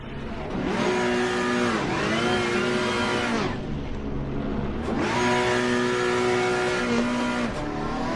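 A race car in the Assetto Corsa Competizione video game circles Mount Panorama, its engine loud and close as it revs up through gears, drops off briefly and climbs again, with no voices.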